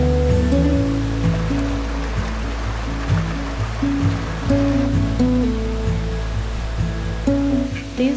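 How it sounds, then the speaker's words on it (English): A small waterfall rushes in an outdoor camping spot, giving a continuous loud wash of water throughout, with low steady tonal hum layered underneath. "You see the little waterfall behind me?"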